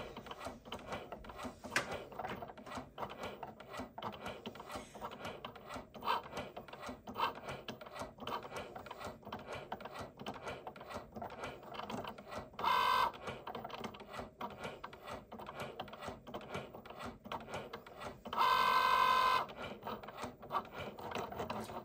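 A Cricut cutting machine foiling gift tags with its foil tool, a steady close mechanical ticking and rubbing patter throughout, broken by two brief louder motor whirs, with no talk.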